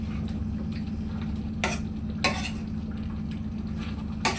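A spoon scrapes and clacks against a pot while salt is stirred into chicken gravy, giving a few sharp strokes over a steady low simmering rumble.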